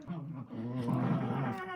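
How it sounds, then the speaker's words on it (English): Two littermate dogs wrestle right under a desk, giving close, rough growls and snarls that rise and fall over a couple of seconds. "do you guys hear my dogs? They're wrestling right under my desk."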